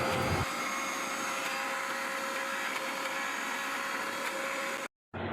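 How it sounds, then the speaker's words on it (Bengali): An electric mixer grinds soaked chana dal with green chilli and ginger into a paste, a loud continuous motor whine with a harsh roar that runs steadily and stops abruptly near the end. "তো এখন মিক্সিতে দিয়ে দিয়েছি ছোলার ডালটা পেস্ট করার জন্য।"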